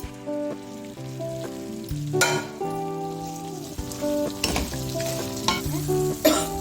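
Gobi manchurian, fried cauliflower pieces added back to a pan with onions, sizzling and frying steadily with sharp stirring scrapes now and then, close and fairly loud, no voices.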